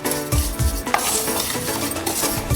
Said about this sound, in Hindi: अब इसी चीनी में सेवइयों को अच्छे से रोस्ट करेंगे